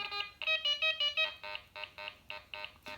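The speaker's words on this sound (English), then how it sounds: "When you hear that, that means an overload signal." A Quest X10 metal detector overload signal: sharp, high electronic tones pulse repeatedly, rapid warbling bursts at first, then spaced regular beeps.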